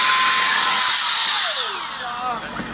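A battery-powered avalanche airbag fan whines loudly at high pitch, then spins down with a falling tone as it is switched off, close up.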